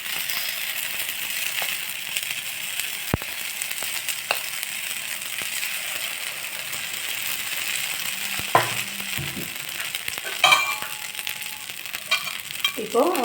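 Paniyaram batter cooks under a lid in a covered pan, giving a steady, soft sizzle and hiss throughout with a few faint clinks and scrapes near the end.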